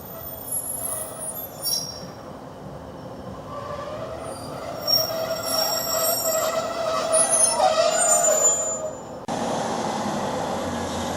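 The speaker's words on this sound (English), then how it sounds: "there's going to be a train coming through" A train rumbles past close by at a level crossing on the Stockton & Darlington line, wheels squealing and rattling over the rails as the sound swells, then cuts to steady wind-like noise.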